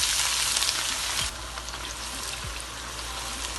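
Finely chopped onions frying in about two cups of hot oil for Rampuri pulao, a steady dense sizzle that drops slightly in level partway through, with faint stirring knocks underneath and no talking.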